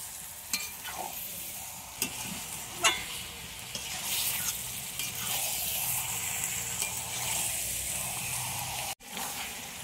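Chicken pieces fry in oil in a pan over a clay stove, giving a steady close sizzle with scattered scraping knocks as they are stirred.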